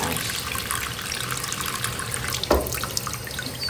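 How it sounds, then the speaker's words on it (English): An amethyst crystal is rinsed under a running tap, a steady rush of water splashing into a sink with a brief louder splash partway through. "So just start by running this under water."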